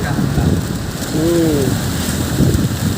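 Steady rain falls on a ghat road in Rayagada, Odisha, a constant loud hiss of drops, with a brief voice-like tone partway through.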